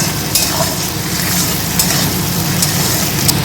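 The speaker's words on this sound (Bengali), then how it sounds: "চিংড়ি মাছটাকে খুব ভালোভাবে ভেজে নেব।" Prawns fry in a pan with onion and green chili, a loud, close, continuous sizzle with occasional stirring scrapes.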